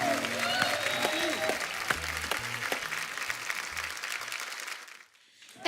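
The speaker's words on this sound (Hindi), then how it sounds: "जोरदार तालियां एक बार सबके लिए" A studio audience at a comedy show breaks into loud, sustained applause with some crowd voices mixed in, then the clapping tapers off and fades out near the end.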